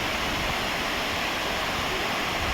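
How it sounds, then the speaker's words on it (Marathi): Water pours out of the Chiklihole dam in Coorg with a dense, even roar of rushing flow, heard close and loud throughout, and no voices. "हे डॅममधून बाहेर पडणार पाण्याचं सुंदर दृश्य बघा"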